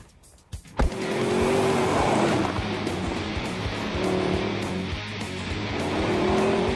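A 2011 Mercedes-Benz SLS AMG with a 6.2-litre V8 roars as it drives hard, opening with a sharp burst and then holding a loud sustained engine howl that swells and dips, with no talk.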